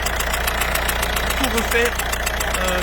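A Citroën Berlingo DV6 HDi diesel engine with leaking injector seals idles nearby, a steady rhythmic ticking knock running throughout while someone talks over it.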